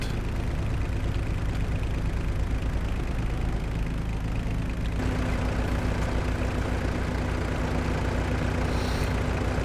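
A tractor engine idles in Farming Simulator 22, on a machine from the Antonio Carrero DLC pack: a steady, unchanging low drone with a constant hum and broad noise throughout, and no voices.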